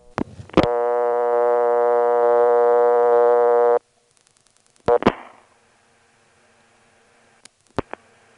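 A steady buzzing telephone tone runs for a few seconds, then stops, followed by a few sharp isolated clicks spaced apart in near silence: step-by-step telephone switch pulsing in a 1977 Stantonsburg, North Carolina exchange.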